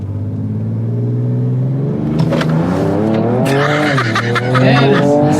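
A Ford Ranger Raptor with a Ford Performance ProCal tune accelerates hard, its engine rumbling loudly and rising in pitch while the tires squeal and scrub near the end.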